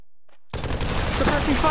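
Rapid burst of automatic gunfire in Pavlov VR laying down suppressing fire, erupting loud after a near-silent half second and continuing as dense, close shots.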